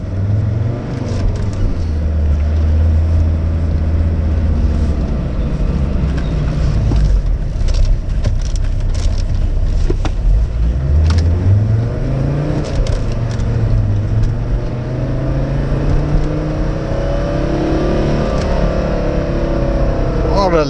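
Audi 100 C3 Avant with a non-turbo diesel engine pulls away and accelerates through rising gears, engine pitch climbing and dropping at shifts under wind noise, heard from inside while people talk.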